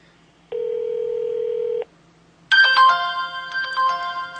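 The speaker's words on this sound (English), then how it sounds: "Alright, so it's dialing." A phone placing a call: a steady electronic ringback tone holds for about a second, then after a short gap a louder, brighter ringtone melody with layered chiming tones begins and keeps playing.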